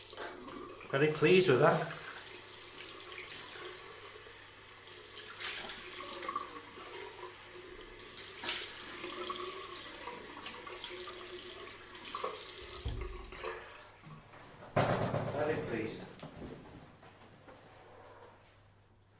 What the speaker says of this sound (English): I'll just rinse off.